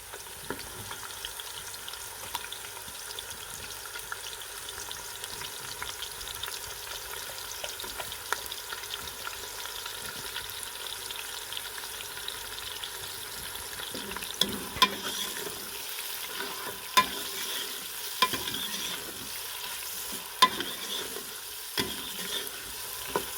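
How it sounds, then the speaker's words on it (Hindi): Sliced onions frying in a pan for mutton korma, stirred until light brown: a soft, continuous sizzle with light crackles and occasional faint clicks of the spoon, steady throughout with no talk. "इसको आपने लाइट ब्राउन होने तक इसको आपने अच्छे से इसको भूनना है।"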